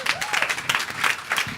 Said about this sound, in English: Bigger round of applause, everyone.